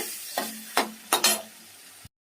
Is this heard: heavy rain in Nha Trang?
no